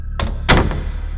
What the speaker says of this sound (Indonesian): mereka membanting pintu kedua dengan keras.